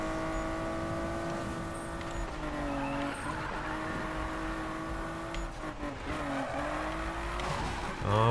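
A Nissan Skyline R34 drifts in the Need for Speed 2015 racing game, its engine droning and rising and falling in pitch while tires squeal through the slides. A louder burst comes at the end.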